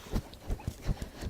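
Hooves beat in a quick, even two-beat rhythm, a horse trotting on soft ground close by.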